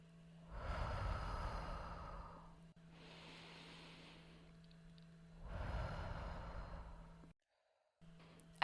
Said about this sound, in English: take a deep inhale through your nose, exhale through your mouth